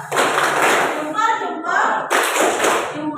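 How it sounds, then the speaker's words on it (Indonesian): A classroom group of children claps their hands in a short patterned cheer, with bursts of clapping broken by a brief vocal chant in the middle before the clapping resumes, loud and close. "kita berikan tepuk tangan dulu untuk kita semua. Tepuk salut."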